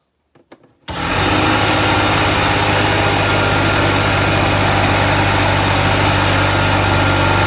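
A Porter Cable 6 gallon air compressor, a broken unit found for free and being repaired, kicks on after a couple of faint clicks and runs loud and steady, a continuous motor-and-pump drone with a low hum that holds without letting up.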